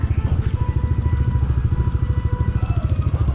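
Motorcycle engine running steadily on a muddy trail ride near Daraitan, Tanay, Rizal, with a close, loud, pulsing throb throughout and no talking.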